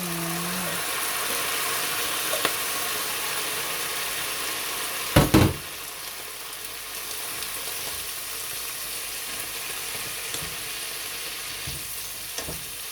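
Steady, loud sizzling of stevia leaves stir-fried with bacon in a hot pan, a continuous hiss with a brief clatter midway and occasional small scrapes, close and without talk.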